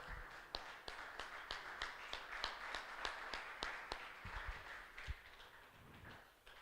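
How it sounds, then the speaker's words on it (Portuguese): A small church congregation claps in reverence to God, a rhythmic series of sharp, evenly spaced claps, fairly faint and distant, thinning out toward the end with some low thumps. "Me ajude a dar uma salva de palmas ao Senhor em reverência a Deus."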